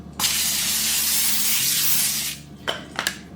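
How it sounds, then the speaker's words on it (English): Cooking spray hisses onto parchment paper lining a sheet pan in one steady burst of about two seconds, close by, followed by a few light clicks and taps. "I'm gonna spray that parchment"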